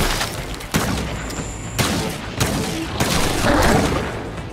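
Gunfire in the video game Scars Above: several sharp, loud shots crack out at uneven intervals over a steady rumbling game background.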